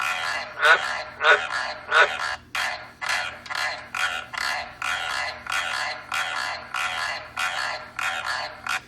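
A White's tree frog croaks over and over in a steady, regular rhythm, a dozen or more harsh calls, close and fairly loud.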